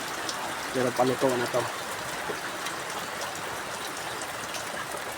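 Heavy rain pours steadily, a dense broadband hiss that stays strong throughout, while someone speaks briefly near the start over it during an outdoor lechon manok cooking session.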